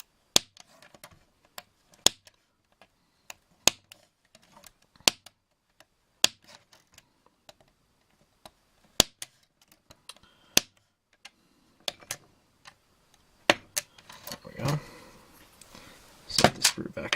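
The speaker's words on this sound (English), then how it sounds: "I'm using a straight edge razor to cut all the sprues." Straight edge razor snipping plastic model railcar parts from their sprues, sharp isolated clicks spaced a second or two apart, close and crisp, then denser rustling and handling of the plastic pieces toward the end.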